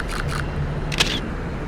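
Two quick single-lens reflex camera shutter clicks fire close by, followed a moment later by a brighter third click, during street photography in Berlin over a low background hum.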